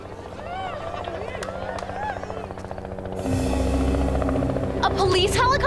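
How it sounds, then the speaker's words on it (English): A police helicopter's rotor chops in loudly and steadily overhead after a stretch of people talking, its thrum building into a close, continuous drone as voices continue. "A police helicopter?"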